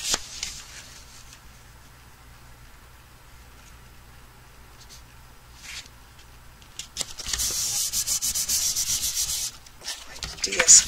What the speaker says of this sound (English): I'm just using my tape runner.